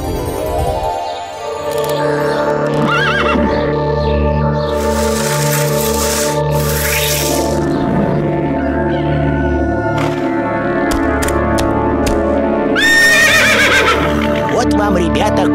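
Cartoon horse in a Russian children's animated tale, giving loud whinnies and neighs over clip-clopping hooves, set against a musical score with characters speaking now and then.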